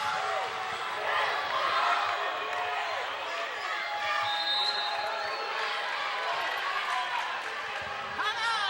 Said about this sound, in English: That one hits long, and this crowd erupts.